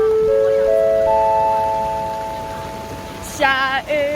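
Heavy downpour on a city street at a pedestrian crossing in Korea, a loud steady hiss throughout, overlaid by sustained electronic tones and a brief burst of voices near the end.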